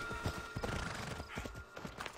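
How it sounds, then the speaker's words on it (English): A horse gallops in the video game Assassin's Creed Odyssey, its rhythmic clip-clop hoofbeats coming in quick, close bursts with a brief whinny amid the fairly quiet game sound. "Horse."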